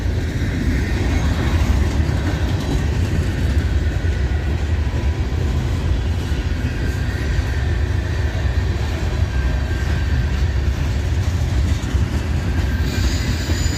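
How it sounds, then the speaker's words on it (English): A heavy loaded coal freight train rumbles steadily past at close range on a mainline, a continuous low roar with faint wheel squeal and no break in the noise. "Pulling up here, he's got a heavy train because it's slowing down."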